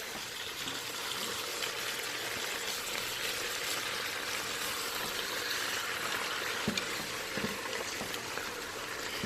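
Ingredients being stirred together in a hot pan give a steady, even sizzle throughout, with a couple of light utensil clinks near the end.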